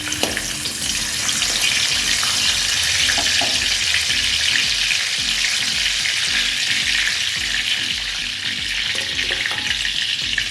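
Two bay leaves frying in hot refined oil in a kadai over a gas flame, a loud, steady, close sizzle that runs unbroken throughout with no talking.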